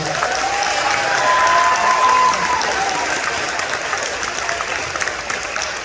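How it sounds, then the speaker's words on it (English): A sustained round of applause from a sizable crowd at a middle school band concert, dense clapping holding steady for several seconds before gradually thinning out. "One more round of applause."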